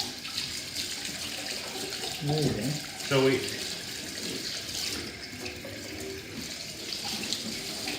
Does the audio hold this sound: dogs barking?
no